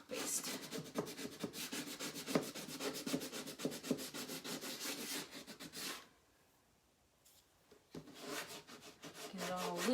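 Dried chalk paste being scraped off a board, a fast rhythmic run of close rasping strokes that stops briefly before the scraping resumes.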